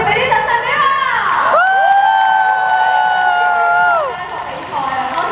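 A crowd at a dodgeball tournament cheers and whoops loudly, with one long, sustained shouting voice rising above the noise before it fades.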